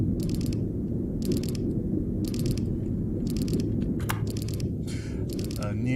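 A signal simulator rotating on azimuth produces a simulated mechanical rotation sound: repeated ratchet-like clicking bursts at a regular rhythm over a constant low rumble, fairly loud and close.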